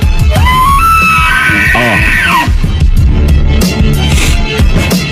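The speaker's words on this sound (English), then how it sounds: "That is the sound of a bull elk rutting." Bull elk bugling during the rut, a loud, close, rising and falling whistling squeal with grunting undertones, raw and harsh across several seconds.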